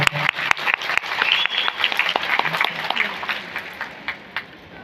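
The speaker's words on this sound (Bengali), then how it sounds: "জোরে একটা হাততালি হয়ে যায়" Loud applause at an annual dance show for a dance troupe's tenth anniversary, with sharp individual claps standing out over a dense, rippling crowd clap that gradually thins toward the end.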